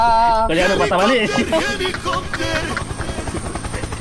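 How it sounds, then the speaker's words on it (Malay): A helicopter passes near a river during prawn fishing on the Muar River, its rhythmic rotor thudding growing steady and prominent while people talk over it. "Helikopter, helikopter."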